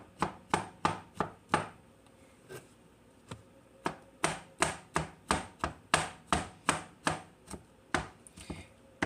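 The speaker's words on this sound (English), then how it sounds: "that's why I'm chopping up onions and mushrooms to go inside this meatloaf" A knife chops onions and mushrooms on a cutting board for meatloaf, sounding as crisp, close taps in quick bursts of steady rhythm separated by short pauses.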